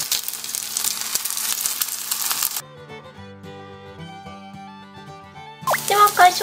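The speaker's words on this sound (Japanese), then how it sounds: "ではフライパンに並べ入れたら、そこにこんがり焼き目がつくまで焼きます。" Food sizzling in a frying pan as it browns, a dense crackle that cuts out midway while music plays, then returns briefly.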